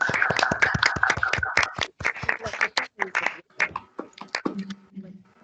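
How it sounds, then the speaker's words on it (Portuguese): Clapping for a student after an accounting thesis defense, a short burst of close hand claps from a small group that thins into scattered claps, with talk overlapping. "uma salva de palmas para a Mirella"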